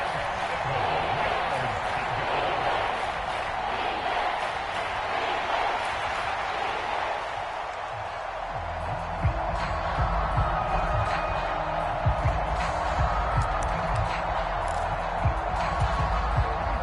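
Stadium crowd in an American football video game on a third down, a broad steady roar of many voices with scattered bumps and thuds, running continuously at moderate loudness.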